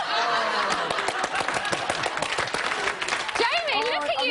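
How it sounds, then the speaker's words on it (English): Applause mixed with chuckles and laughter from a studio audience during a television interview, brisk clapping running throughout, with voices and a laugh rising near the end. "You applauding."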